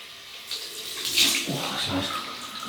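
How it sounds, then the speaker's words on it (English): Water tap running for a cold rinse after wet shaving, a soft continuous hiss of flowing water with light splashing that swells slightly midway, quiet and close. "Cold water rinse"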